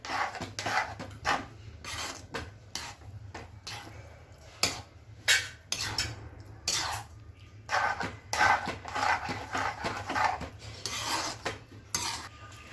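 Pav bhaji vegetables being stirred and mashed in a pan, with repeated scraping and clattering of a utensil against metal in an irregular, close rhythm, with no talking.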